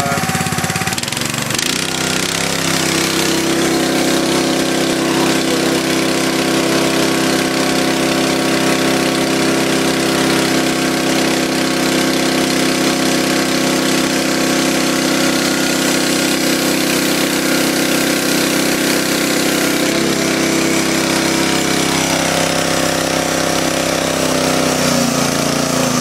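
Engine idling steadily after a really cold start following a winter of disuse, run on choke; a loud, continuous rough rumble that catches in the first seconds and holds for the rest, with no talk.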